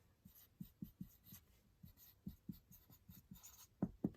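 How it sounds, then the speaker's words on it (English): Pen on paper writing out a chemistry structure, a quiet series of soft irregular scratches and taps in short bursts, close and alone with no voice. "So I'm just going to write that here."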